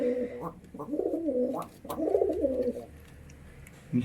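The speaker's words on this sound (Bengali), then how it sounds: "একজোড়া পায়রা এখানে আমি দেখেছি" Pigeons coo in soft, repeated low phrases nearby, with short pauses between calls and no talking.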